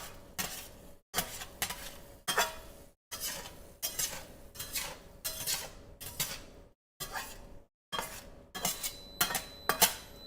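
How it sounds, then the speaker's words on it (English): A metal utensil scrapes repeatedly at ground beef and potatoes in a pan, producing close, rhythmic scraping strokes with brief pauses between them and no voices. "I'm gonna turn it off. And scrape off the stuff."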